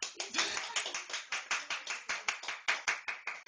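Children clapping at a birthday party just after singing, a quick, fairly regular run of close hand claps that keeps a steady tempo for a few seconds.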